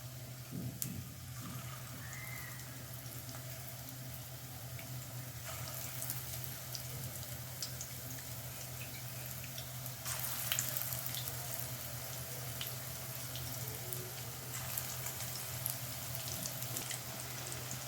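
Cabbage fritters fry in hot oil with a steady, even sizzle that runs throughout, broken by occasional faint crackles and a soft clink or two.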